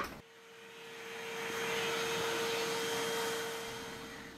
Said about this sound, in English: let's get the vacuum cleaner over here before it gets all over the place